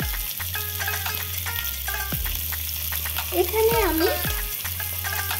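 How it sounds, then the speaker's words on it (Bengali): Marinated pangas fish pieces frying in hot oil make a steady, close sizzle throughout, with background music tones and a brief voice speaking over it. "এবার ম্যারিনেট করা মাছের টুকরোগুলো এক এক করে দিয়ে ভালো করে ভেজে নেব।"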